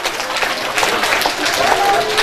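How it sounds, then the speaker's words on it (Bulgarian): Audience applause for a second-place winner at a holiday award ceremony with certificates and gifts from Santa, steady broadband clapping running the whole time with a voice faintly audible over it. "Силни аплодисменти!"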